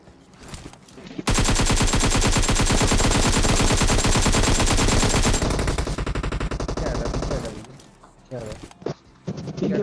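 Rapid automatic gunfire in a video game, aimed at a player riding a buggy; a dense, loud burst of shots runs for about four seconds, then thins into scattered shots as someone talks over it.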